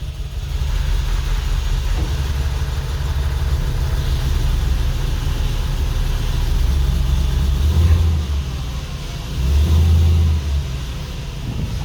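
A 2005 Mercedes E55 with 220k km idles with a steady, loud, deep engine rumble as it is shifted into gear, with two brief heavier swells in the drone near the end.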